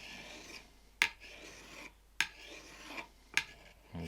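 Spoon knife being sharpened with long, even strokes, a soft quiet rasping scrape repeated about four times, each stroke ending in a sharper metallic click, heard alone.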